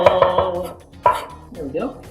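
A knife mincing garlic on a cutting board gives quick bursts of sharp chopping taps, loud and close, with short pauses between them.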